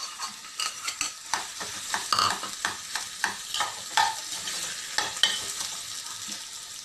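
Mashed potato stirred into fried onion in a pan, a run of rhythmic spoon scrapes and soft sizzling, close up and fairly quiet, with no voices.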